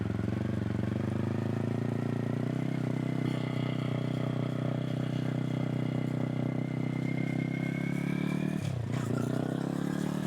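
A Yamaha R3 motorcycle engine runs steadily and loudly up close while riding around a roundabout, its pitch holding fairly even with a brief dip and wobble near the end as it slows and picks up again.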